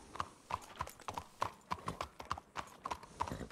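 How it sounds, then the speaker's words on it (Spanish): Horse hooves clip-clop in the RedM game in a steady walking rhythm of about a dozen crisp, moderately close beats, with a faint tonal chime accompanying some of the steps. "muy buen caballo, las cosas como son"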